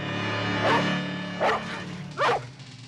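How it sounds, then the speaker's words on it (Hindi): A dog barks three times at a moderate distance, short separate woofs spaced about a second apart. "देखो, ये रॉकी के भौंकने की आवाज है,"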